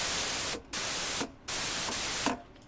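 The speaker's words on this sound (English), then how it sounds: "And then over here in the mixer, you got white noise." Bursts of broadband white noise from the mixer of the Helm software synthesizer, steady hiss switched on and off three times with short silent gaps between.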